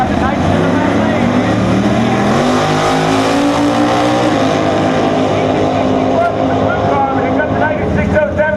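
Race cars roaring past on the track at Maryland International Raceway during an X275 drag racing event, a loud continuous engine drone with shifting pitch that swells and fades as the cars pass close by.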